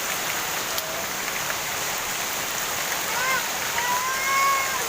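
Steady rain falling outdoors at Jakabaring Sport City in Palembang, a continuous broadband hiss of drops on surfaces, fairly loud and even throughout, with some faint voices and a few brief whistle-like tones over it.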